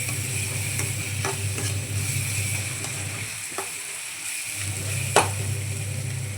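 Steady sizzling of turmeric, garam masala and pepper frying in a pan, with a spoon stirring and occasionally scraping, moderately loud and close, no voices.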